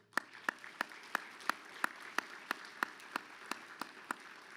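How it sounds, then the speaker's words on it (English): An audience at a business luncheon claps in a steady, evenly spaced rhythm, each clap sharp but fairly faint, with no talking over it. "please join me in a big round of applause to thank Lilly Endowment for all that they do"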